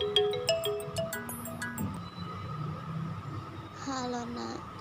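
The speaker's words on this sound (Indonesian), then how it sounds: "Aduh, mama telepon lagi." A mobile phone rings with an incoming call, its electronic melody chiming at first and returning briefly later over a steady low background hum.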